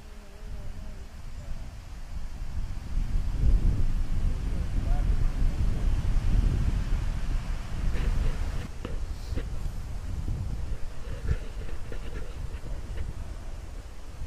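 Wind blowing steadily across a lake on a multiday canoe trip with building waves, a continuous low rumbling roar buffeting the microphone throughout, with faint splashing and a few light knocks later on.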